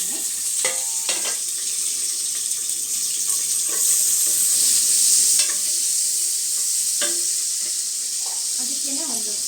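Chopped onion hits hot oil in a pressure cooker for a sambar tempering, giving a steady sizzle punctuated by sharp scraping and clattering stirs close by.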